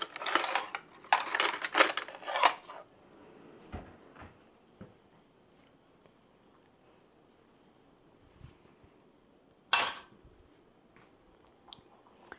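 A spoon clinking against dishes: a cluster of bright metallic clatters at the start, then scattered faint taps, and one more sharp clink near the end, in an otherwise quiet room.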